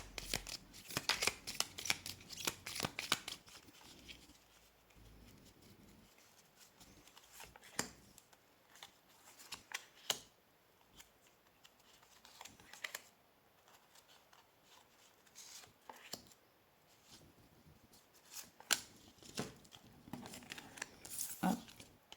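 Tarot-style cards shuffled and drawn for a reading, heard as repeated close, crisp riffling and papery flicks in bursts, busiest at the start and again near the end, with quiet stretches between and no speech.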